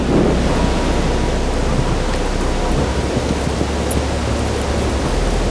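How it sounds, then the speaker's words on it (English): Heavy rain and gusting wind roar as a dense, steady wash of noise outdoors on a hike, with a deep rumble underneath that could be distant thunder. "the wind's kicking up, and it sounds like the rain in the distance is kind of heavy"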